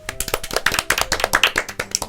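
Clapping in a studio radio show setting, a handful of people clapping close and fairly loud in a quick, uneven rhythm for about two seconds.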